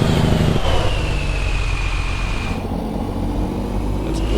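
Cummins N14 truck engine, chipped to 610 horsepower, running in American Truck Simulator, a steady loud diesel rumble with a faint whine that drops away partway through.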